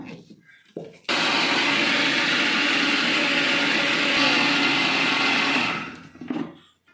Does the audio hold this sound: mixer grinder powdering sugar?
yes